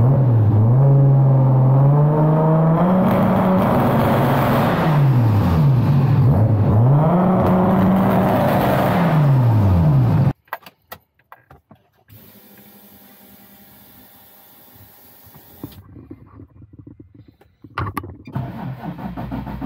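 A Brazilian-built 600 hp Toyota Supra in an untuned state: a loud engine idles and revs in rising and falling sweeps for about ten seconds, then cuts out into near quiet before rumbling again at the end.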